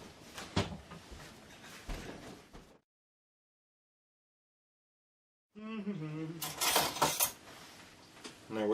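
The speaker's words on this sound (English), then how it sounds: "Put this back on the stove and let it simmer." A metal pot of home-made brew set back down on a stove, with a few clanks and rattles of cookware before a pause, then a person talking close by.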